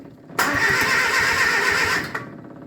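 A Bedford CA van engine, just rebuilt, is cranked in a starting attempt: about a second and a half of loud, rough, continuous churning that cuts off abruptly, followed by a brief clunk and quiet.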